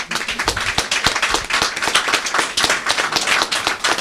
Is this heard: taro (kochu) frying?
no